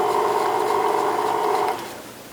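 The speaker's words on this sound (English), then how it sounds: "while the mixer is going, I'll just slowly add in our flour mixture" Electric mixer whirring through cookie dough, a steady, fairly loud motor hum close by that drops off in pitch and volume near the end.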